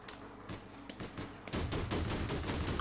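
Weapon fire in the online shooter APB Reloaded: sparse separate shots early on, then a louder, dense burst of rapid gunfire filling the second half, with no talk.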